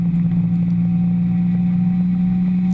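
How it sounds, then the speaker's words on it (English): Race car engine at the California Festival of Speed, a steady, close droning hum holding one pitch throughout, with no talk. "I love the sounds of the engine as I'm racing."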